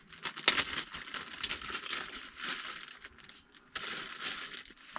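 A plastic bag stuffed with mushed sprouts crinkles and crackles up close, in irregular bursts of crumpling, while camping alone in Alaska's winter cold at thirty-four below zero.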